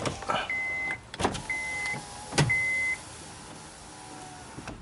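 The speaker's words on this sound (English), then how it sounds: "Rolling down the back window will only allow the door to open up 2/3." An electric rear window of a 2005 Honda Odyssey whirs as it rolls down, with short beeps and clicks between motor runs, close up and without talk.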